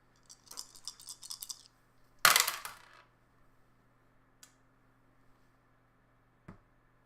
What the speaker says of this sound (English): Roll our crew dice.